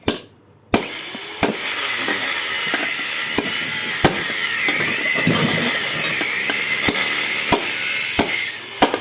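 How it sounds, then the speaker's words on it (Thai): Sharp, heavy ball-peen hammer strikes ring out at irregular intervals, about a dozen blows over steady background noise, each a crisp metallic impact. "ค้อนนี้ผมใช้ค้อนบอลนะครับหนักๆ"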